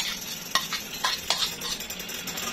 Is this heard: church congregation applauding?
no